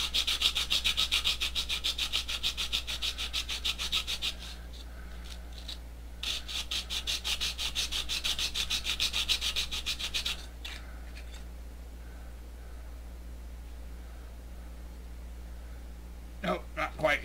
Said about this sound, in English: I'm trying to make sure I get even sanding wearing down that aluminium